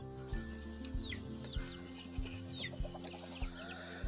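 A flock of growing chickens in a protected garden coop clucks and chirps continuously, with soft rhythmic thumps and scattered higher peeps at close range, fairly quiet overall.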